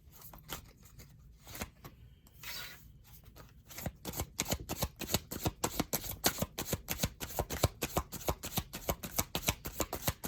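Tarot cards are shuffled close up: soft rustling at first, then a steady run of quick, crisp riffling flicks that grows louder and more regular.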